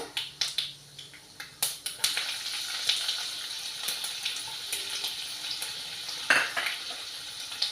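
Ginger pieces frying with mustard seeds in a pan for rice upma, crackling sizzle under repeated spatula stirs and clanks, with a few sharper knocks against the pan.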